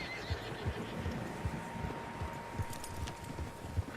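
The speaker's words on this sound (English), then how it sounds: "Horses, quite a few of them." Horses in the Red Dead Redemption 2 video game whinny and snort amid a faint ambient hum, with soft irregular hoof thumps recurring through the moment, fairly quiet and somewhat distant.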